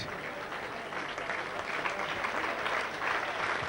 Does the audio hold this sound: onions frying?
no